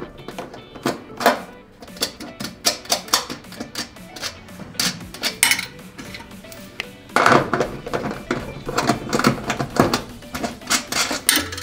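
Terminal nuts come off the power cord wires of an electric range, giving a busy run of small, close metallic clicks, taps and clinks in an irregular rhythm.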